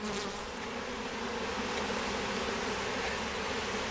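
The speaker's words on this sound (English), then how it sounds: "They'll find their way into the hive." A dense, continuous drone of many honey bees buzzing close around an open hive during the installation of a bee package, steady and even with no pauses and no voices.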